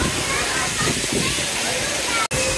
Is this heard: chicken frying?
no